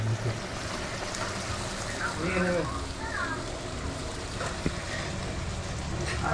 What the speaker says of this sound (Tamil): திடீர்னு பாருங்க மழை எப்படி போய் ஆரம்பிச்சிச்சு